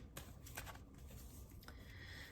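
Quick riffling of a deck of tarot cards being shuffled, a brief papery flutter, close by and fairly quiet.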